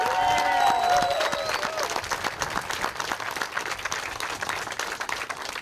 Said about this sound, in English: I can clap now.